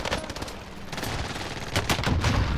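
Rapid bursts of video game gunfire crackle in tight clusters, loud and close, with sharp repeated shots running through the short stretch.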